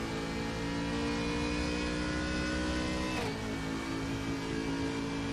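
Race car engine heard on board during a sim race lap at Sonoma, a steady, loud, buzzing drone with a brief pitch sweep as it shifts, while a voice talks briefly over it.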